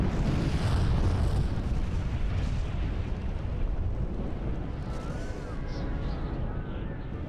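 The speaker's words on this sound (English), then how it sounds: "This was the climax of the whole eruptive sequence, one of the loudest noises, if not the loudest noise ever heard by modern humans." The Krakatoa volcanic eruption is rendered as a massive, continuous roaring rumble of dense low booming that stays loud throughout, with crackling bursts over the top.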